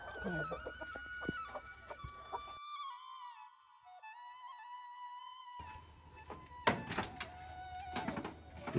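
Chickens, including a grown chick of a backyard hen in Bangladesh, cluck and call near the microphone in irregular bursts, with a spell of steady tonal calls in between and a few soft thuds.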